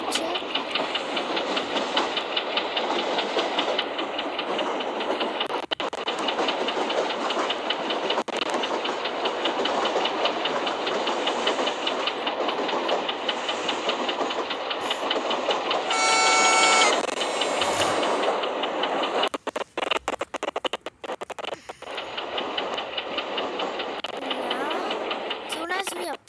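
A train runs in the Indian Train Traveller video game, a steady rumbling ride with clicks and brief tonal chimes, heard under a person talking throughout.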